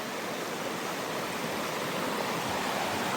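A river flowing steadily along a leaf-covered bank, a broad, even rush of water heard up close and alone with no voices.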